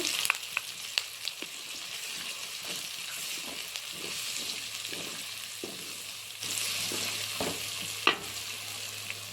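Vegetables frying in a pan with turmeric give a steady, soft sizzle, broken by occasional light clicks of stirring, fairly quiet and close.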